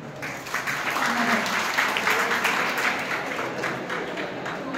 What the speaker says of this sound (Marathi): त्याच्यासाठी ना टाळ्या वाजवा